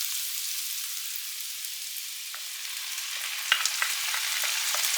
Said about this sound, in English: At this point, I am going to add the meat mixture.